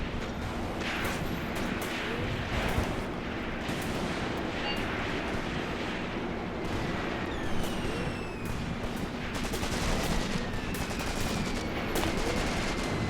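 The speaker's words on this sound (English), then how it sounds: "That mortar fire is keeping these boys alive, I'll tell you that much." Mortar and gunfire fill a battle in the war game Graviteam Tactics: Mius Front, with constant rattling small-arms fire, heavier thumps, and distant rumbling blasts layered in a dense, continuous din.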